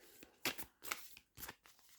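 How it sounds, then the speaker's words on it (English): A deck of cards being shuffled, three or four quick riffling bursts in irregular rhythm, soft and close with short gaps between them. "I'm shuffling on camera so you can see"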